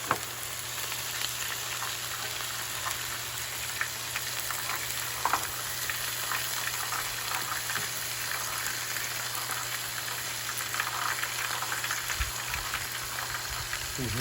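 Smash burgers sizzle and crackle under a cover on a 36-inch Blackstone griddle, a steady close frying hiss with scattered pops and faint clatter over a low hum.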